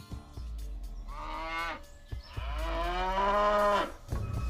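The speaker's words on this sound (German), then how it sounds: "Kühe sind da." Cattle moo close by, two long drawn-out lowing calls, the second deeper and longer, with quiet background between them.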